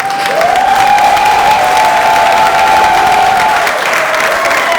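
Loud, dense applause and cheering from a show audience, a constant roar of clapping with a sustained whistle-like tone riding over it throughout.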